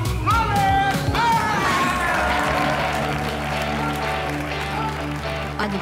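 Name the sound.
audience applause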